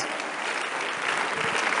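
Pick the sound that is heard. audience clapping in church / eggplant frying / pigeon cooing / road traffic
audience clapping in church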